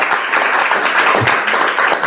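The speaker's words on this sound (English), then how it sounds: "give Professor Chalcraft another round of applause" Sustained audience applause after a memorial lecture, dense and loud clapping filling the hall without pause, no voices over it.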